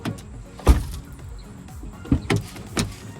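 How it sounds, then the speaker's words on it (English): A 2014 Hyundai Elantra car door shuts with a solid thump, followed by a couple of shorter knocks and a rattle of broken glass loose inside the bottom of the door, close by. "can hear it shaking. There's glass inside the bottom of the door."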